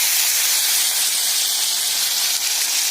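Potato pieces frying in hot oil in a home kitchen for a Bengali mourola fish dish, giving a steady, loud, bright sizzling hiss that runs unbroken throughout with no talking.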